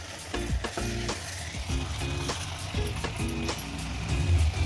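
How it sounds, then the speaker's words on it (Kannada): Soaked rice is stirred into a sizzling tomato masala in a pan, with rhythmic, close scraping strokes of a spoon over a constant frying hiss. "ಈಗ ನಾನು ರೈಸ್ ಹಾಕೊಳ್ತಾ ಇದ್ದೀನಿ."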